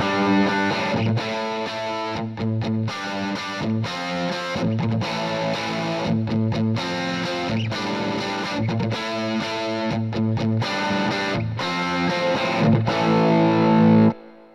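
Distorted electric guitar chords and riffs through a guitar amp whose power stage has heavy current feedback, loud and dense with bright upper tones, strummed in a driving rhythm with short breaks before a sudden stop.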